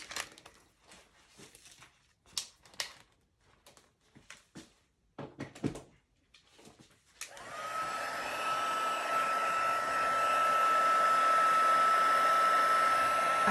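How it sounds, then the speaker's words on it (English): A heat gun blows steadily to melt embossing powder, starting abruptly after a few soft handling knocks and taps, then holding a loud, even, close-up whooshing roar with a faint whine to the end. "Taking my heat gun."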